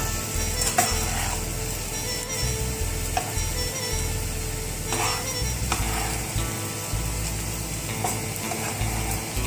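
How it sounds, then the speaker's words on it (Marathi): Sabudana khichdi with peanuts sizzling in a pan while being stirred: steady frying hiss with intermittent scraping clicks of a spoon against the pan, close and continuous. "आता चांगला हलवून घ्यायचं।"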